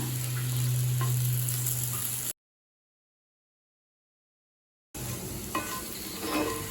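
Elephant yam slices fry and roast in a pan with a steady, close sizzle, broken by a few seconds of total silence before the crackling resumes.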